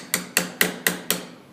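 A hammer strikes a sculpture cast to knock pieces off, giving five sharp, evenly spaced knocks close by, each one ringing briefly before the next.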